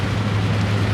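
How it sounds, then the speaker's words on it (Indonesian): Steady broadband rain hiss with a low engine-like hum underneath while travelling to Batam airport, continuous and fairly loud with no voices. "Tapi sekarang lagi hujan."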